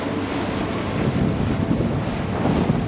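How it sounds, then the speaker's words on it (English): Sailboat under way in the Bahamas with favorable wind filling the sails, a steady broad rushing roar of wind gusting across the microphone, loud and continuous throughout with slight swells in strength, no voices. "The wind was very favorable. Filling the sails"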